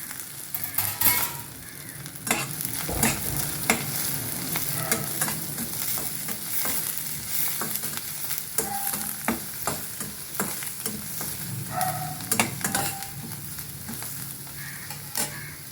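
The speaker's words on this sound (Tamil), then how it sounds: "இதில் பச்சை மிளகா, கறி லீவ்ஸ், புதினா, கொத்தமல்லி எல்லாம் போட்டு ஒரு சாட் பண்ணுறோம்" Green chillies, curry leaves, mint and coriander sautéing in hot oil, a continuous close sizzle broken by repeated clinks and scrapes of a spoon stirring the pan, with no voices.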